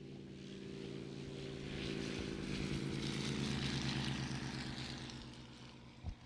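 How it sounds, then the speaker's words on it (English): A radial-engine aircraft at an airshow drones steadily, swelling as it passes and then fading, heard from a distance with a broad propeller roar and no talking. "It's got that radial engine. I love the radial engine."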